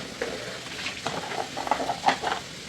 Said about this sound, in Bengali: আমার মটর ভাজা হয়ে গিয়েছে